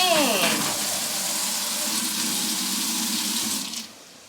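A kitchen faucet runs water over broccoli in a strainer, a steady broadband splashing rush that holds close and loud for several seconds before cutting off near the end.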